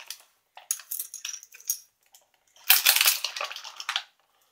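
Plastic and cardboard packing from a World Peace Keeper action figure set being handled and torn open, a string of close crinkles and snaps with one louder rustling burst near the middle.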